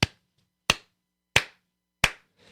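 Four sharp hand claps ring out alone at an even pace about two-thirds of a second apart, each a crisp, close spike that decays quickly, with a softer tap trailing the last one.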